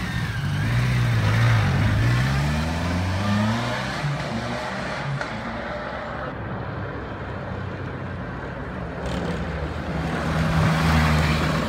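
A KLT 1200 motorcycle engine revs and accelerates nearby, rising in pitch as it pulls away, then holding a steady drone before building again toward the end, with wind and road rumble underneath.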